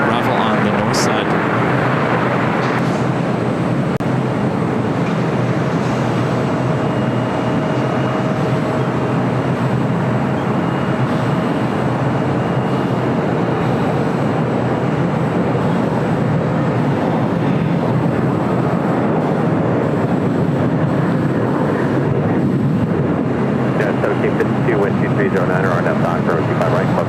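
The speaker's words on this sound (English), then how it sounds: "Delta A330 Neo, next arrival on the north side" A Delta Airbus A330neo airliner arrives at LAX, its broad, steady engine roar filling the whole stretch at constant loudness, with a voice talking over it.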